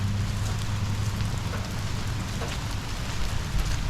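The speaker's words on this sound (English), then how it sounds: "It's not raining super hard" Light rain falling steadily outside a house near its foundation and roof edge, a constant soft hiss with faint scattered drops, with no talking.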